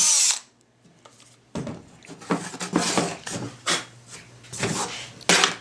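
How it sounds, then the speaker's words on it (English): A power drill bores holes for Blum drawer slides on a wooden drawer, several short whirring bursts of varying length separated by brief pauses, close and fairly loud. "Drilling the 2 outermost holes"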